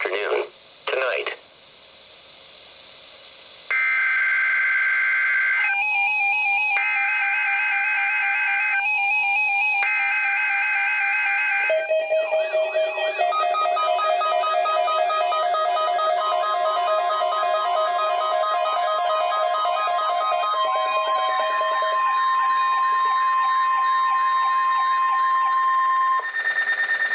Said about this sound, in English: This is a weekly test of the NOAA Weather Radio Warning Device.